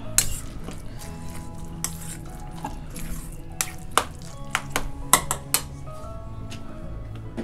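Spoon stirring eggplant bharit with coriander in a pan, with soft scraping and intermittent sharp metallic clinks scattered irregularly throughout, close and moderately loud.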